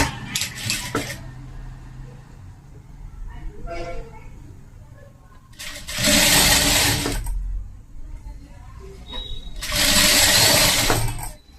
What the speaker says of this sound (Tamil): இப்ப நம்ம இதை தைக்க போறோங்க.